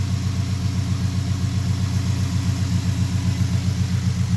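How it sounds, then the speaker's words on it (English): A 2015 Ford Mustang idles close by after a new water pump was fitted, giving a steady, even, low engine drone with a faint rhythmic pulse. "the engine bay is like so much quieter now than what it used to be"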